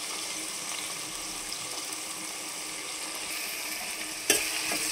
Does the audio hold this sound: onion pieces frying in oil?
yes